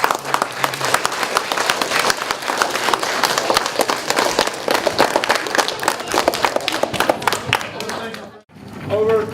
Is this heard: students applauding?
yes